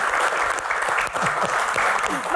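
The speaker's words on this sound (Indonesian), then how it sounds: "Tepuk tangan untuk panelis dan juga rekan-rekan mahasiswa sekali lagi." An audience at a campus Q&A event applauds panelists and students, a dense burst of clapping at close range that carries on for a couple of seconds.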